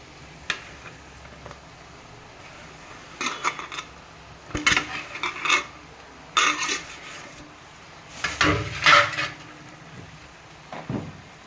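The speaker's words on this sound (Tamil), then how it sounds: "முட்டை வந்து அரை வேக்காடு வந்ததுக்கப்புறம் புரோட்டா பிச்சு வச்ச புரோட்டாவை போடுறோங்க" Torn parotta tossed onto half-cooked egg in a pan: scattered metallic scrapes and clatters of a utensil against the pan, coming in irregular bursts with quiet gaps between, fairly close.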